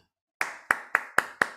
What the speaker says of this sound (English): give a round of applause first.